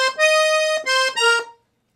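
Piano accordion plays a short blues call phrase of a few reedy sustained notes, moderately loud and close, then stops into silence.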